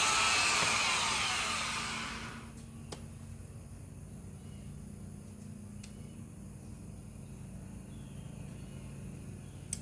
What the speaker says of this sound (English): It's a Torx buffer. There's no fucking on off switch. You gotta plug it in and it's on the whole time.